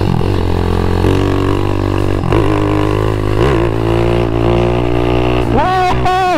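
A small, light motorcycle fitted with a Supra engine runs loud and close at half throttle, holding a steady buzzing tone, then revs up and down in quick surges near the end.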